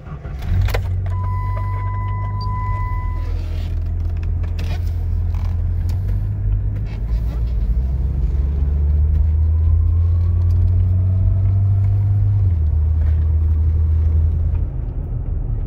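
A Jeep ZJ on a test drive after a rear brake caliper replacement, its engine rumbling low and steady inside the cabin with a short whine near the start and no talking.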